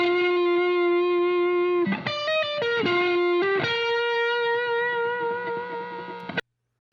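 Electric guitar reamped through a Bandmaster amp, playing a long held note, then a quick run of picked notes and more sustained bent tones, loud and close before stopping abruptly; no talking.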